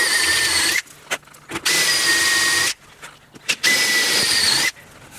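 Step drill bit on a power drill boring holes through a bracket for a kids' cot, in three loud sustained bursts separated by short pauses, close up.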